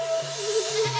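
A cartoon goat gives one short, nasal, wavering bleat lasting about a second. It sounds close and clear, with no talk over it.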